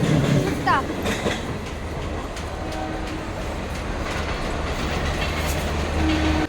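A passenger train runs on rails with a continuous deep rumble and repeated clickety-clack wheel knocks, heard from inside the carriage, steady and fairly loud throughout.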